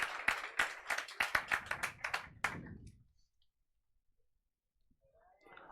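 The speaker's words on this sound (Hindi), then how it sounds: "इनके लिए जोरदार तालियां भाई।" An audience applauds for the toppers at a coaching-class award ceremony, a brief burst of clapping that stops abruptly into near silence.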